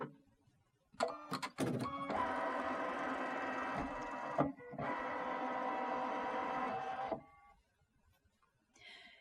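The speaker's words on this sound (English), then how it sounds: "So I'm gonna go ahead and turn the machine back on and let it cycle through its calibration." A Brother Solaris embroidery machine powers on and runs through its calibration: a few short mechanical clicks and whirs, then two long steady motor drones separated by a brief pause, fairly close and without talk.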